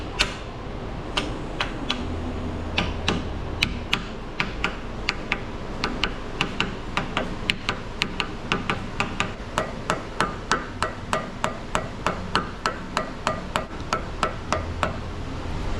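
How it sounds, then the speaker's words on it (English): Sharp, evenly spaced taps of a soft mallet driving seals into a 9.5-inch 14-bolt six-lug rear axle, dozens of crisp close strikes in a steady rhythm over a low shop hum. "we're gonna go grab a little soft mallet, drive the seals in the axle"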